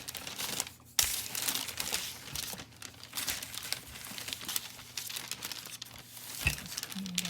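Parchment paper crinkles and rustles continuously as Christmas cookie dough is rolled out on it, close and moderately soft, with occasional sharper crackles and no speech.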